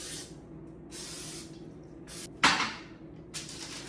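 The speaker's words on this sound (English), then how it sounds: "I'm going to actually spray a little bit of grease on the edge of the pan." Cooking grease sprayed from a can onto the edge of a springform pan, several short hissing bursts separated by pauses, one sharper and louder than the rest, close up and quiet.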